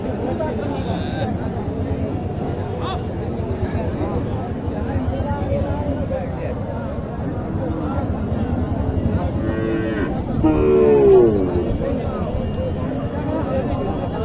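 Cattle moo repeatedly amid a noisy crowd at a cow and calf market in Naogaon, Bangladesh, with people talking nearby and one louder, drawn-out moo standing out toward the end.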